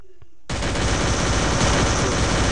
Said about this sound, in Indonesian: kita langsung coba tembakan ya guys ya